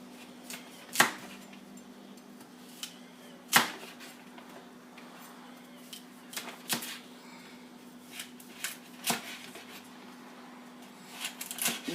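Knife slicing carrots at an angle on a cutting board for Mexican meatball soup, sparse sharp cuts spaced a second or more apart over a steady low hum, fairly quiet and close.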